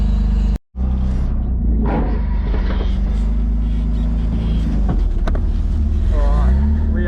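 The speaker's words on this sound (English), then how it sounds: "Alright, we are driving." A turbocharged BMW E36 drives along, its steady engine rumble and road noise filling the cabin, broken by a brief dropout near the start and some rising tonal sweeps from the engine later on.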